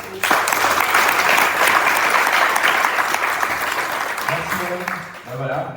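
An audience at an eco lodge agroforestry tour bursts into loud, dense applause that holds steady for several seconds and then tapers off, with a voice speaking near the end.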